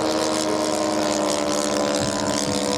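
A radio-controlled Cub model airplane's small engine buzzes loudly and continuously as it flies close past at a large-scale model aircraft event.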